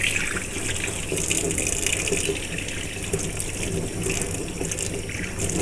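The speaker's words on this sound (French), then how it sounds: "Alors vous mettez une eau assez chaude au début." Hot water running steadily from a tap to rinse something, a continuous close splashing rush that keeps the same level throughout, with no talking.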